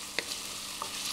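Onions soften in oil in a pan for risotto, a short steady sizzle with a couple of faint stirring clicks.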